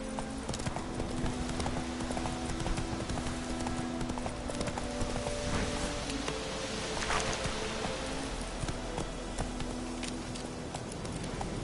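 Steady clip-clop of a horse's hooves galloping in The Witcher 3 on PS5, a continuous rhythmic beat running the whole time under in-game ambience and music.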